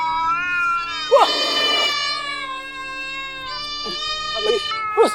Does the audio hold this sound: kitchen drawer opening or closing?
no